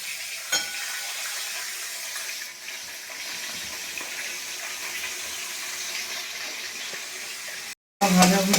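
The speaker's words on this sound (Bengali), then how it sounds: "ভাজাভুজি হচ্ছে" Raw banana and spices fry in a pan with a steady, close sizzle that runs almost unbroken, apart from a brief dropout near the end.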